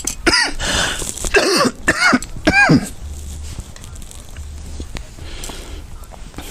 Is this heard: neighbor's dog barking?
no